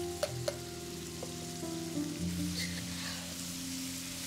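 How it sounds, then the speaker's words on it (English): Onions and minced garlic sautéing in a pan, a quiet continuous sizzle with a couple of sharp clicks early on and soft tonal hum underneath. "Sauté your onions. And add minced garlic."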